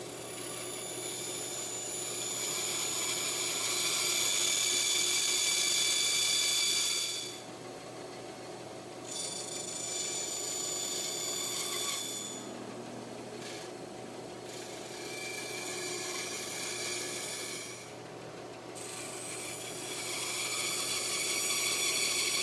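A bandsaw cuts wood in a workshop, a steady rasping whine running through with brief dips where the blade leaves the stock, then resumes cutting.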